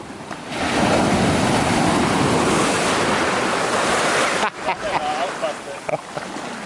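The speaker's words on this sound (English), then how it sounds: "There's a big wave coming." A big ocean wave surges and breaks against the rocky Portuguese coast in a loud, sustained roar with wind buffeting the microphone, then falls back into scattered splashes and water wash near the shore.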